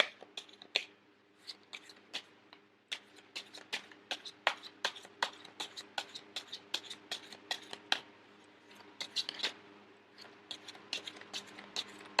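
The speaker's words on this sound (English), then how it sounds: "I am going to shuffle until the first card pops out" A deck of tarot cards is shuffled by hand, a close run of crisp riffling flicks and snaps in quick uneven rhythm, with no talking.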